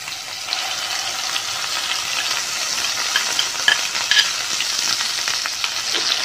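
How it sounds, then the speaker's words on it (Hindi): Ground masala paste sizzles and crackles steadily in hot oil for Nagpur-style Saoji chicken curry, a close, even frying hiss with occasional pops and stirring, no talking. "तेल अब हमारा गरम हो चुका है। इसमें हम जो मसाला पीस के रखे थे वो इसमें हम डाल देंगे।"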